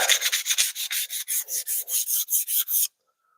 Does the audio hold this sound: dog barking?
no